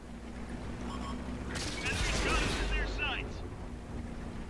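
World of Tanks console game: a heavy tank cannon fires once as a deep boom, followed by a rumbling, crackling blast that swells and fades over a couple of seconds, with game ambience underneath.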